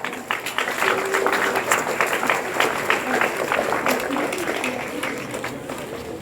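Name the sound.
applause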